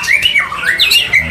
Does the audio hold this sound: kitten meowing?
no